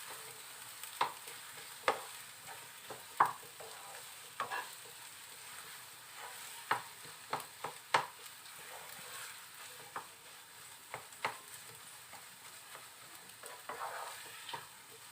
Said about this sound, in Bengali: এই পেঁয়াজ আদা রসুনের সাথে একটু ভালো করে একটু নাড়াচাড়া করে নিতে হবে